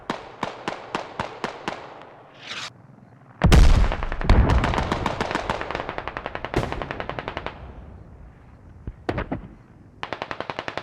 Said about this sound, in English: Something blew up.